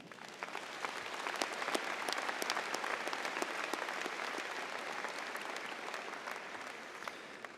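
Sustained applause from a high school commencement audience, a dense steady wash of many hands clapping with a few sharper claps standing out, moderately distant and continuous throughout.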